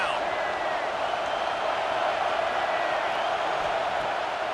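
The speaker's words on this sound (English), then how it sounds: "Decibels rising as the crowd gets behind this defense on 3rd down." A stadium crowd roars during a Tennessee dynasty game in the College Football 26 video game on a third-down defensive stand, a loud, sustained, even wash of cheering.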